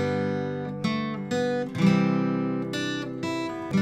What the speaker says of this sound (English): we could take those notes and then strum under them like this